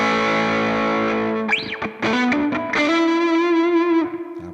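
Electric guitar played through a compressor effect on a Boss GP50 multi-effects unit, sounding distorted and effect-laden, with a held chord, a quick bend and a sustained note, alone at steady loudness.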